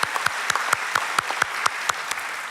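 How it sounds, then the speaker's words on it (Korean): A church congregation claps during a Sunday service, a sparse scatter of distinct handclaps close by, steady and moderately loud with no voices over it. "우리 큰 박수로 우리 격려해 주시면"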